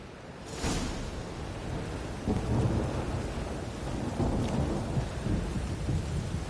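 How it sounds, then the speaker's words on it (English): Thunderstorm in The Witcher 3 video game: a steady roar of heavy rain with rolling thunder rumbling underneath, loud and unbroken throughout, with no voices. "A storm, damn it."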